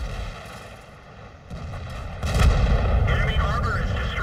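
Tank combat in World of Tanks as a shell glances off the rear of a tank destroyer, with loud gunfire booms and a continuous rumble of engines and battle noise that swells in the second half.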